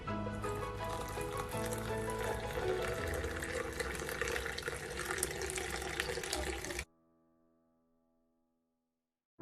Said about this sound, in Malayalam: പാല് ഒഴിച്ചു കൊടുക്കാം.